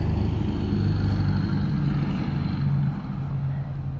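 Distant race cars roar around a speedway on race day, a steady far-off engine drone with a faint humming pitch carried over a garden.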